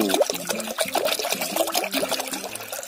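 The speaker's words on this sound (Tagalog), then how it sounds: "lagyan muna natin ng tubig yung ating palayok para sa ating sabaw." Water poured into a clay pot to start a milkfish soup outdoors, a steady splashing, gurgling stream that stays close and fairly loud for about three seconds with no talking.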